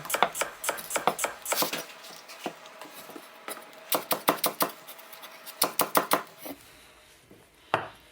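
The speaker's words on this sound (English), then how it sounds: "let's slice some cucumber and spring onion to go with the mantou" A kitchen knife slices cucumber and spring onion on a cutting board, sharp clicking chops that come in quick irregular bursts with short pauses between them.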